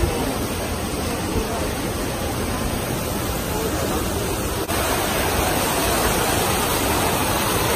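Continuous rushing hiss of strong hot-water massage jets churning in a swimming pool, a dense, even wash of water noise heard close and steady throughout.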